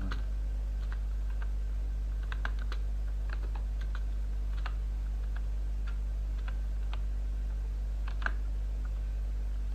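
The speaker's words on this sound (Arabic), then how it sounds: "هنا بنكتب الجملة" Someone types on a computer keyboard, producing sparse, light clicks in short irregular bursts over a steady low electrical hum, with no one talking.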